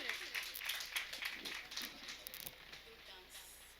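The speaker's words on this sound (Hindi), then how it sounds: "जोरदार तालियां ममता जी के लिए" Faint, distant audience clapping at an award function, a scattered patter that thins out toward the end.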